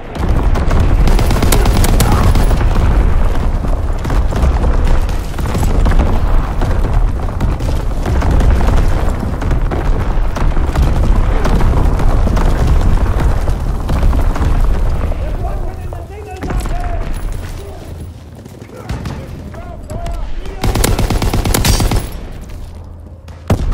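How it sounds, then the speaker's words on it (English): Heavy incoming enemy artillery fire in a video game, a dense, continuous roar of booming blasts and rapid gunfire that stays loud for most of the stretch before thinning out, with a few further bursts near the end. "Incoming enemy artillery,"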